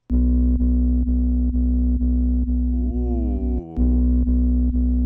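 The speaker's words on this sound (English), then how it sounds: "Like this one is just kind of more like a sine wave." A steady, loud pure synthesizer sine tone with faint repeated clicks, briefly bending and wavering in pitch before dropping out and returning, with no voices.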